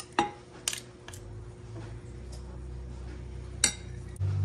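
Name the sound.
fork or spoon scraping cake batter from a dish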